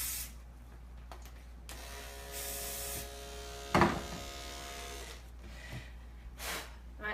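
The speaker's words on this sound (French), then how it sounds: "Je vais juste mettre un peu d'huile puis de spray dans ma lame" Short spray bursts of oil and lubricant onto a dog clipper blade during poodle grooming, faint hisses over the steady hum of the running clipper, with a brief clatter midway.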